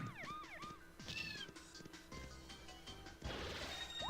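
Kitty bomber cat enemies in the Super Paper Mario video game meow repeatedly in rising, wavering cries, with a crash or thwack partway through and busy game music and effects underneath.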